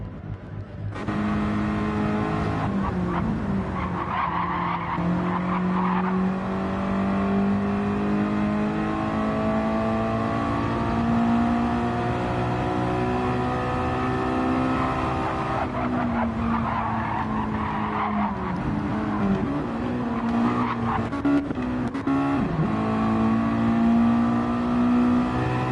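Race cars in Gran Turismo 7 running the Sardegna circuit, Layout C reversed, in a Sportsman stock series event. Engines drone and rev steadily, with tire squeal and several cars mixed together throughout.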